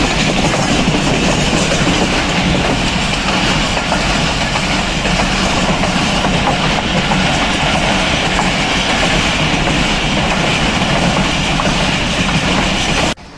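Khyber Mail passenger train running steadily on rails between Lahore and Peshawar, a continuous loud rumble with rhythmic clickety-clack of wheels over joints, sustained throughout and cutting off at the end.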